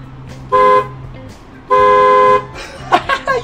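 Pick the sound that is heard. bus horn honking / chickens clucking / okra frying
bus horn honking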